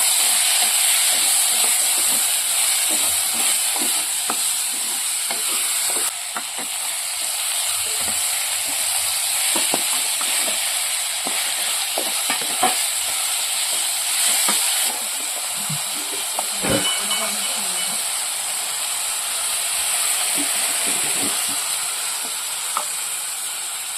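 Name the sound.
chopped tomatoes frying and being stirred in a pan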